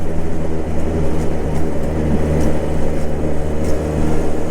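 Lambretta scooter engine while touring on the road, a loud, steady close-up motor hum with constant wind rush throughout and no voices.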